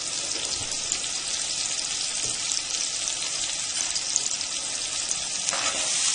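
Mustard and cumin seeds fry in hot oil in a pan for a green peas curry, giving a steady, close hiss and crackle with small pops throughout and no talking.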